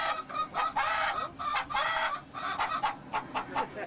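Chickens at a rural Icelandic farm cluck loudly and repeatedly in a busy, overlapping chorus of short calls, with a rooster-like crow mixed in, close by and continuous with no talk.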